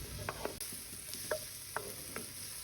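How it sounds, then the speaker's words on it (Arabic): Olive oil with finely chopped onion frying in a pot for Moroccan harira soup, a steady low sizzle with a few brief stirring scrapes and clinks, close and alone without talk. "عشان تكمل فايدة شوربة الحريرة ححط زيت زيتون، بصل اللي مقطعينه ناعم"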